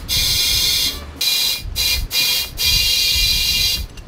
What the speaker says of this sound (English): Just gonna pump tires up